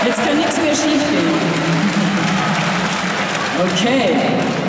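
A crowd applauds a band steadily and loudly at Cologne Pride in the Lanxess Arena, a dense wash of clapping that continues under someone talking.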